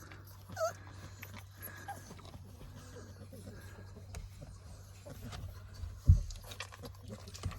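Cane Corso puppies piled together in a doghouse make brief, faint whimpers and soft shuffling sounds over a low hum, with one sharp knock near the end.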